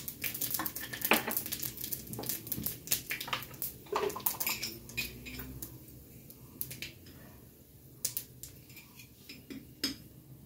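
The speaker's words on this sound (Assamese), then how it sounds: "কেইটামান সৰিয়হো দি দিছোঁ, ফুটিব দেই।" Mustard seeds and panch phoron splutter and pop in hot oil for an Assamese fish curry, giving dense bursts of sharp crackles that come and go in quick clusters, close and fairly loud.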